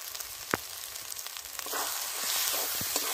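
Spices with garlic, ginger paste and turmeric powder fry in a pan, making a soft, steady sizzle that grows slightly louder, with a couple of light clicks.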